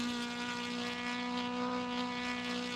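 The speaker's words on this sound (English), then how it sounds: "You can hear the engine going" A race car engine at high speed on the Nordschleife in a racing video game, a steady sustained drone with strong harmonic tones holding constant pitch throughout, loud and continuous with no voices.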